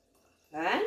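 Water pours in a steady rush into a Thermomix pot, starting abruptly after a quiet moment and running loud and close until the end.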